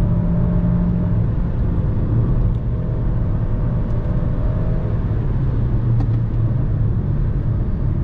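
A Jeep Renegade 1.8 Flex cruises along a wet mountain road. Its engine hums steadily with a low, continuous rumble and tire roar heard from inside the cabin, with no talking.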